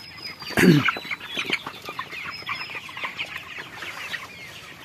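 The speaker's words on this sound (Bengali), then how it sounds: "এই ঘরে মুরগি দেওয়া হয়েছে 500" Chickens clucking at close range in a farm shed of about 500 birds, with one loud burst of squawking and flapping early on, then steady scattered clucks from the flock.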